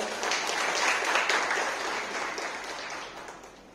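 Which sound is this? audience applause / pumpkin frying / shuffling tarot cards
audience applause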